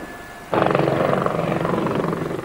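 A police helicopter's rotor thumps loudly and steadily, its engine droning underneath, starting abruptly after a brief quiet moment and continuing close by.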